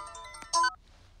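A phone ringtone sounds as one short, bright electronic tone burst, loud and close, then quickly falls silent.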